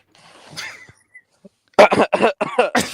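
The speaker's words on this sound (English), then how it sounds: "don't you ever clear your throat while I'm wearing these headphones" A soft throat clearing near the start, then a burst of sharp, loud close-up coughing or hacking sounds in quick succession.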